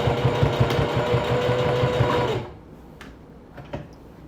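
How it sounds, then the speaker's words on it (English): A sewing machine stitches a seam on a sweatshirt pocket, a steady fast rattling whir for about two seconds that then stops, leaving a few faint clicks. "I began to sew and tied knots at the start and the end of the stitch."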